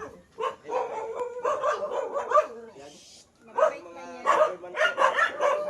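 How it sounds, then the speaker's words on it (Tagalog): Several dogs bark repeatedly in bursts, fairly close, with people talking over and between the barks. "Dami aso."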